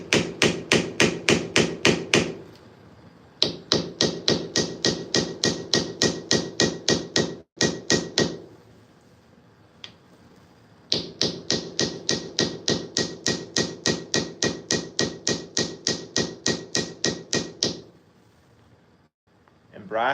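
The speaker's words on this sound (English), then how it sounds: "Using the hammer's weight, the hammerhead's weight" Steel hammer tapping soft brass pins into knife handle scales, the head simply dropped in quick, even strokes: long runs of sharp, close taps, with brief pauses between bursts.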